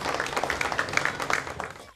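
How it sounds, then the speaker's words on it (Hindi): An audience at a candidate welcoming event applauds steadily in a dense, continuous wash of clapping, with voices mixed in. "जोरदार तालियों से युवाओं का उत्साह बढ़ाएं"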